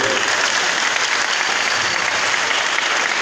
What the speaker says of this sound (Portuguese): E de todos vocês, as nossas salvas de palmas